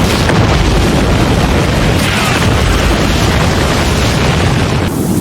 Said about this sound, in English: A second, stronger explosion followed.